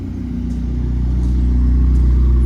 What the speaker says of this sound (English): That's McLaren, another McLaren, plenty of McLarens out today.